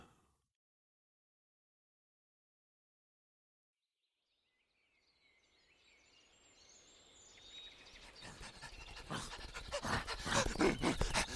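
Dogs panting as a radio drama sound effect, starting after about five seconds of silence and building steadily louder and closer with rapid, breathy rhythmic puffs, alone without speech.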